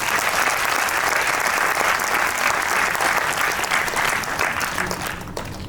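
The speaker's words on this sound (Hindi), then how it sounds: "बिल्कुल, तालियां दिल से निकले तो जरूर बजाएं।" An audience at a spiritual talk bursts into loud, sustained applause, dense and even throughout, easing off slightly near the end.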